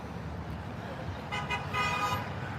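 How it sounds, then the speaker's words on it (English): A car horn sounds at a roadside protest outside a police station in American Fork, giving a few short, moderately loud honks in quick succession over steady traffic noise. "Beep beep, honk honk"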